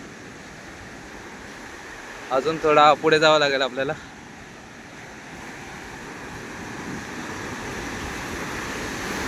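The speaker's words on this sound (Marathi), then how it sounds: "खडका भागाजवळ लाटा जोरदार आपटताना आपल्याला पाहायला भेटत आहेत" Waves crash and roar steadily against rocks on the Konkan coast with gusting wind in the rain, the surf swelling louder; a voice briefly talks partway through.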